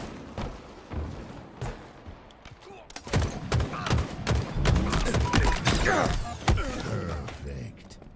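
Rapid bursts of gunfire and sharp impacts in a Halo multiplayer match, loud and dense, cracking in clusters with brief gaps, mixed with game effects and faint talk.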